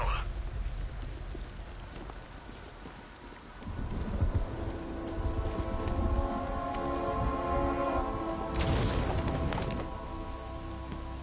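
Heavy rain pours steadily in the game Batman: Arkham Knight, a continuous hiss that swells partway through, with rumbling undertones and voices talking over it.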